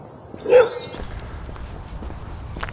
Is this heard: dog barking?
yes